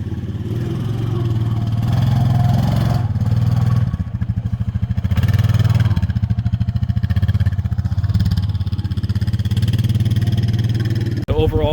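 Honda Foreman 520 ATV fitted with a 2-inch lift kit crawling over an obstacle, its engine chugging steadily at low revs with throttle surges and some clatter, loud and close.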